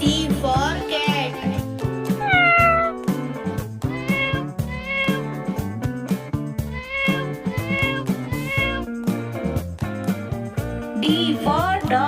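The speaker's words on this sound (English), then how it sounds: "C for cat." A cat meows repeatedly over a bouncy children's phonics song, the calls set into the busy music rather than heard alone.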